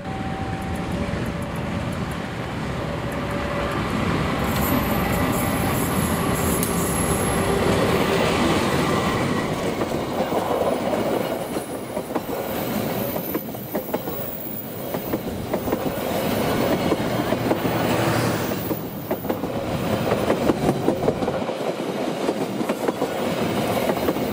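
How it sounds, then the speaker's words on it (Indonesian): The Kertajaya 7033A passenger train rumbles past steadily for the whole stretch, wheels clattering and rolling loudly with a continuous metallic roar, no voices. "Berikutnya akan melintas kereta api Kertajaya tambahan 7033A."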